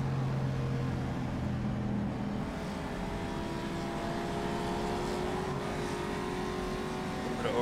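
A 1956 race car engine in rFactor 2 at Monza drones steadily, its pitch sliding as it drops a gear approaching Curva Grande, a continuous close, moderately loud tone.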